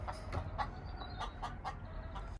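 A chicken clucks repeatedly nearby in a garden greenhouse setting, a series of short, rhythmic clucks with a low ambient rumble underneath.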